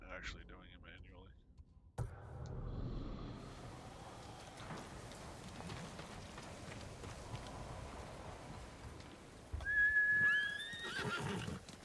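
A horse whinnies and hooves clatter in the samurai video game Ghost of Tsushima, a short neigh near the end over a steady ambient bed of wind and movement.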